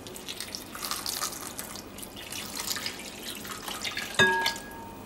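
Liquid pours and trickles steadily into a trifle bowl nearby, ending with a sharp clink of glass or ceramic.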